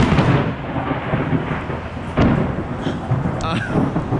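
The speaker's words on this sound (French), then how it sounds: "On se fait prendre par l'orage" Loud thunder rolls through a storm outdoors, a continuous deep rumble with a sharper crack about halfway through, over a background hiss of rain.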